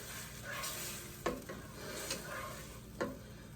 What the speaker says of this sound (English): I'm going to fry it up first before we add the gravy.